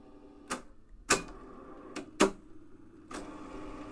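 A Realistic 999B reel-to-reel deck switching into rewind, with a string of sharp mechanical clacks spread over a few seconds. A steady whirring hum follows and carries to the end, close up with no voices.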